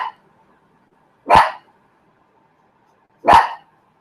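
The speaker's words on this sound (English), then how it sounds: "He's barking. Out of his sleep" A watchdog barks twice, each a single sharp bark about two seconds apart, close and loud against a quiet room with no talking.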